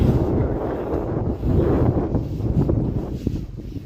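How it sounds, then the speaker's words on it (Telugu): Strong wind at the Kargil War Memorial buffets the microphone in a continuous low, gusting roar that swells and eases over a few seconds, with no other clear sounds. "గాలి చూడండి ఎట్లా వస్తుందో"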